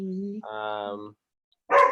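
A winery dog barks once near the end, a single sharp loud bark after a stretch of voiced whining or humming tones, with a quiet gap between them.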